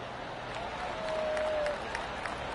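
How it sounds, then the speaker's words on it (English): Gallery crowd applause after a golf shot in the PGA Tour 2K23 video game: a soft, steady patter of clapping and crowd murmur lasting the whole stretch, fairly distant and low in level. "That deserves a golf clap."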